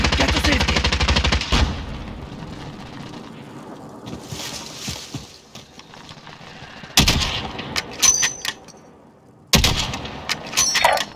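Loud automatic gunfire bursts in a Call of Duty Modern Warfare 2019 match, a sustained rattle at the start, then sharp separate volleys later over quieter ambient game noise.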